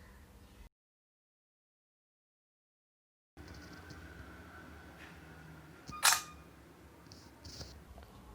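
A single soft camera shutter click from a Samsung Galaxy Tab A7 taking a photo, close and brief against a quiet room background.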